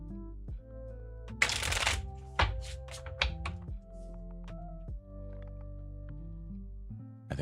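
Tarot cards are shuffled close up in quick riffling bursts, with soft taps and thunks of the deck being squared between them, while a faint tonal hum sits underneath.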